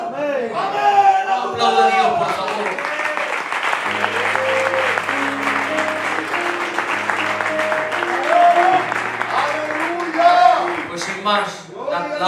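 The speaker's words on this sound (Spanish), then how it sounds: "Aplauda a Dios, por favor." Church congregation applauding during a Spanish-language worship service, loud sustained clapping for about twelve seconds with voices and held tones blending into the crowd noise.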